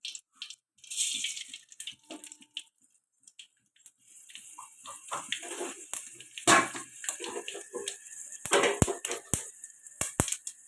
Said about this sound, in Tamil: கடுகு போட்டுக்குவோம்.